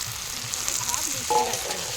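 Chopped tomatoes frying in a pan for an egg and cabbage curry, with a steady close sizzle and soft scraping of a stirring spoon running throughout.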